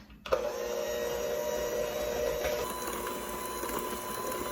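An electric mixer runs steadily, whirring through sourdough vanilla wafer batter with a constant motorized hum after a brief start at the beginning, no talking over it.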